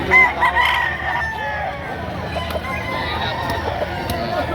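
A rooster crows loudly near the start, its call rising over a busy outdoor livestock market din with people talking in the background.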